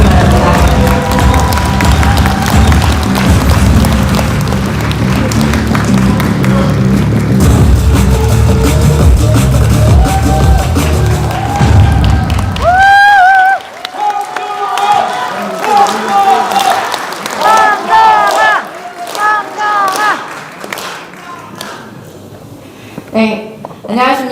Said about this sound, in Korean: 큰 박수와 함성으로 맞아주시기 바랍니다